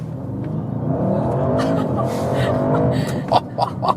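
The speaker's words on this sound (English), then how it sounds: "One more acceleration in the RS mode." 2024 Audi RS7 Performance accelerating hard in RS mode, the engine note sweeping upward loud and close inside the cabin, then a gear-change burble and a few crackles at the end.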